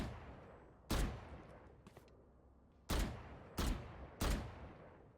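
Gunshots in Valorant, four sharp, loud single shots spaced irregularly over a few seconds, each with a quick decaying tail, plus a faint softer click between the first two.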